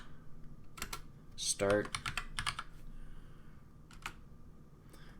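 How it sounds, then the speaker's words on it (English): Fingers type a command on a computer keyboard in a run of quick, crisp keystrokes, loud and close, with a short burst of voice partway through. "we're just going to type AnonSurf"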